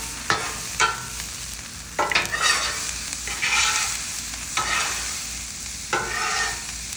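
Garlic fries on a Blackstone griddle for fried rice: a steady sizzle is broken by repeated sharp metal spatula scrapes and stirring strokes, close and without talking.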